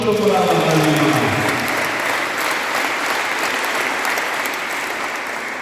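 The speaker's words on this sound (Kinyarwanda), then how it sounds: "Nimukomere Imana amashyi ko muri abana b'Imana" A church congregation breaks into loud, sustained applause at a baptism service, the dense clapping filling the room from start to finish and easing only slightly toward the end, with no voices rising above it.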